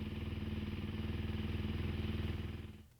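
A kick-started Yamaha YZ450F dirt bike engine idles steadily with a low, pulsing rumble and light clatter, then cuts off abruptly near the end.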